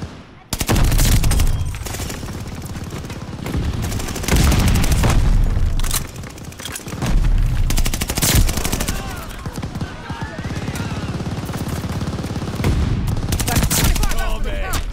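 Grenade explosion and gunfire in the video game Call of Duty: Vanguard: heavy booms and rapid bursts of automatic fire crowd a busy multiplayer firefight, loud and near, with brief voice chatter underneath.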